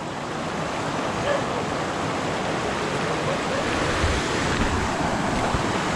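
Water streaming along a canal fed by a waterfall, a constant broadband rushing wash that fills the whole stretch without pauses, loud and close, with no talking.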